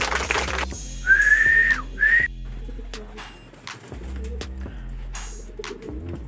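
Racing pigeons at a loft, close soft cooing with a couple of rising whistled calls and flutters, against a low steady hum.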